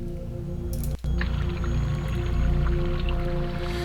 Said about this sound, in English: from the sound effects, it sounds like there's some flowing water around here